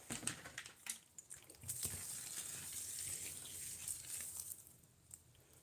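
Water is poured onto the substrate of a savannah monitor enclosure, giving a steady, faint splashing and pattering that runs for several seconds with no talk.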